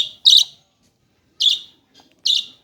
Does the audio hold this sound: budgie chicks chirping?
yes